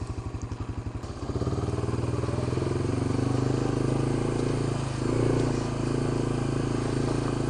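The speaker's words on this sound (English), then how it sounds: "Haven't had this four-wheeler out in a while." A four-wheeler ATV engine idles with a rough, fast putter, then revs up and settles into a loud, steady running drone close by, with some clattering, outdoors in the Ozark Mountains.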